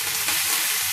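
Curry leaves crackle in hot oil during a tempering for sundal, a dense, loud, continuous sizzle with no voices.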